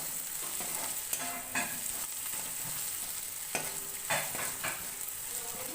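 Onion chutney frying in a pan with Kashmiri red chilli added, a steady soft sizzle with scattered scrapes and clinks as it is stirred, close by and alone.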